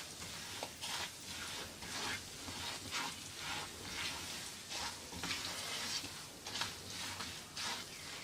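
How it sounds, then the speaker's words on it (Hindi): Semolina roasts in a pan on a stove for aloe vera halwa, giving a steady dry sizzle broken by regular scraping bursts as it is stirred, close and without talk. "तीन से 4 मिनट हम इसको अच्छे तरीके से भूनेंगे।"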